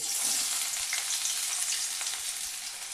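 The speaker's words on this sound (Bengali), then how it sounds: "তেল গরম হয়ে গিয়েছে, এবার দিয়ে দেবো পেঁয়াজ।" Chopped onion sizzles in hot oil with a dense, steady, loud frying hiss that stays even for the whole stretch, without voices.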